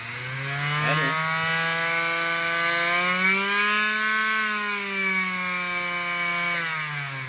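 A Stanley Stel 431 finishing sander runs steadily with a smooth, humming electric motor whine, close and constant, with slight pitch wavering as it is tested after a bearing repair.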